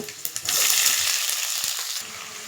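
Onions and tomato hit a hot pan with fried peanuts for a puffed-rice upma dish, giving a quick burst into a loud close sizzle with stirring scrapes, alone without talk.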